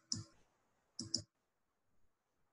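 Sharp computer mouse clicks sound close and quiet in a silent room: a single click, then a quick double click about a second later, followed by faint soft ticks.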